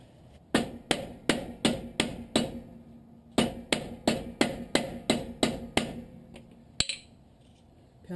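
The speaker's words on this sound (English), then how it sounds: "Pound it on enough to where you can get the bolt started." Hammer blows driving a shock absorber onto its mounting post during a suspension lift, sharp metallic strikes in two rhythmic bursts of about six each with a short pause between and a final lone hit.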